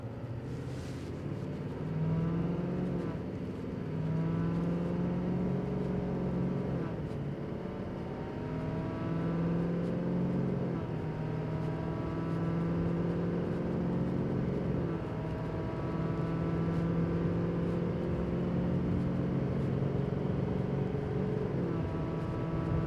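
A 2023 Chevy Silverado 2500HD with the Duramax diesel accelerating hard while towing 14,000 pounds, a loud continuous engine drone that climbs in pitch through repeated gear shifts.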